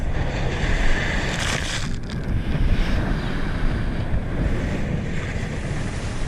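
A sailboat with a second reef in the main bashes into roughly one-metre seas off Indonesia, with close, heavy wave surges and hull splashes rolling under constant roaring wind buffeting the microphone.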